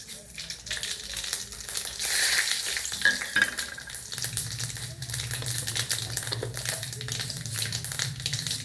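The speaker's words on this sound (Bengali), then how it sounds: "আর একটু জিরে ফোড়ন দেব।" Cumin seeds, bay leaf, dried chillies, fenugreek and mustard seeds crackling and sizzling in hot oil for a Bengali tempering, a close, steady frying hiss with brief stirring scrapes and no talk.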